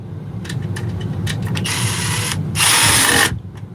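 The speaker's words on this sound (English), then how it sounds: "let me tighten this cable clamp" Cable clamp being tightened during electrical wiring work, with a near ratcheting clicks followed by two loud bursts of a power driver whirring.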